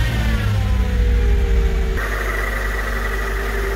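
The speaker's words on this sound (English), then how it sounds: "And then you can start your engine." A Mercedes car engine runs after a jump start, a loud, close, steady hum with strong low rumble; partway through the pitch steps up, as if the engine has caught and settled into a higher idle.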